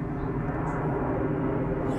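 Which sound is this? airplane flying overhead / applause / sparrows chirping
airplane flying overhead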